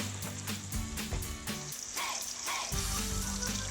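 Onions dropped into a pan of frying garlic and chili for dal: loud, dense sizzling and crackling oil that surges and stays strong, heard up close without speech.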